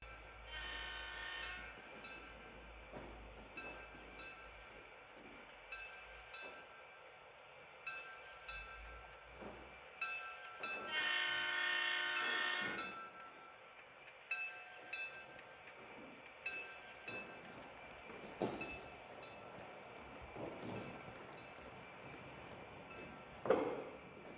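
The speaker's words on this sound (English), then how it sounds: "Here's one last shot of the Zephyr as it highballs past our camera" Amtrak's Zephyr passenger train rumbles past at speed with rising and falling mechanical noise, a loud surge in the middle and a few horn-like tones, no talking.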